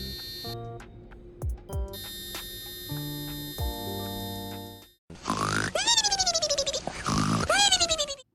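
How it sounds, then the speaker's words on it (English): Piezo buzzer driven by an Arduino plays a string of musical note tones, first steady shrill beeps of changing pitch, then warbling, sliding electronic tones, loud and close with no talking. "this next component is quite different, and it's a piezo buzzer. It creates noise through vibrations"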